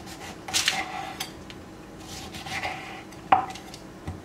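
Lemon being sliced on a board while preparing roasted branzino: a few soft, close knife cuts and light kitchen clatter, with one sharper tap near the end, all fairly quiet and without talking.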